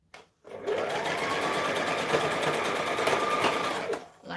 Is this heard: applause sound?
no